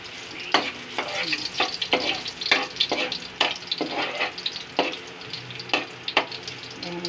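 Garlic sizzles in a pan while being sautéed until golden brown, a continuous close fry crackle with frequent rhythmic clinks and scrapes of a spoon stirring against the pan, no speech.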